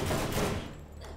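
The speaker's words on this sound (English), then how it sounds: "I'm gonna use the SMG." A short burst of rapid SMG fire in the video game Borderlands, loud and dense at first, then thinning out within about a second.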